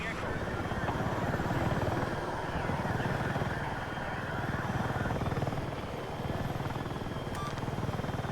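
Aircraft engine drone from a multiplayer combat video game, a steady loud rotor-like roar holding throughout under ongoing game noise, with talk mixed in.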